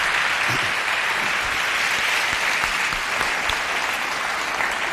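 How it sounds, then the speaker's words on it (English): Sustained audience applause at an Africa Day lecture panel discussion, a dense, even wash of many hands clapping with no pauses, steady and fairly loud throughout. "Let's give both of them another rousing round of applause."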